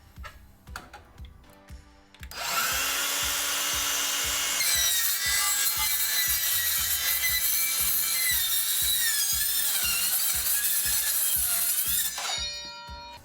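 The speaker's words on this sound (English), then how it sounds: "I set my saw to the proper depth, so I'm going to cut through the face of this and be able to take the aluminum piece off" A circular saw set to depth cuts through the face of an aluminum metal ceiling plank in an Armstrong Metalworks installation, a loud sustained shrieking whine with screeching metallic overtones that runs for about ten seconds after a few light taps.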